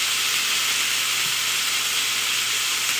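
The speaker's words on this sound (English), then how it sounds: "We'll let them sear up for another 30 or so seconds" Steak pieces searing in a hot pan for a snow pea stir fry, a loud, steady sizzle and hiss that runs unbroken throughout, with no talking.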